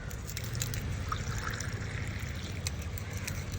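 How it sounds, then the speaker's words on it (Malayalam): Tap water pours and trickles into a small steel travel cup, a steady splashing stream running throughout with a low rumbling background. "ജസ്റ്റ് താണ്ട് പൈപ്പിൽ നിന്ന് വെള്ളം എടുത്ത് കാണിച്ചു തരാം"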